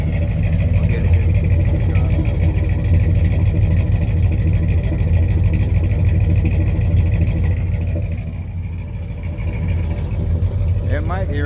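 A Dodge W150 truck with a 360 Magnum engine and a new stock-style exhaust, running slightly rich, idles nearby with a steady low rumble. The level eases briefly near the end.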